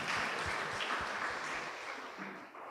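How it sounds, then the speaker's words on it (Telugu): A church congregation applauds during a Christmas celebration at St. Therese's church in Eluru, producing a steady, dense wash of clapping that holds for a few seconds before gradually thinning out. "గట్టిగా ఒకసారి చప్పట్లు కొట్టండి."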